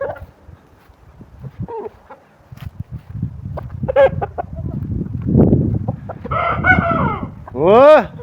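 Champion roosters and hens in a farmyard: scattered soft clucks at first, then several loud, drawn-out crows from nearby birds overlapping toward the end, with a voice briefly mixed in.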